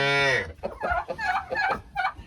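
Chickens cluck in a shed they share with young calves, giving a steady run of close, clear clucks and squawks with no talking.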